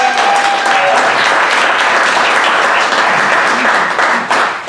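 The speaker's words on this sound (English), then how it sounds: "How about a big round of applause for your wait staff tonight" Dense, sustained applause from a comedy club crowd in Tucson fills the room for several seconds, loud and steady with overlapping claps and faint crowd noise, tapering slightly at the end.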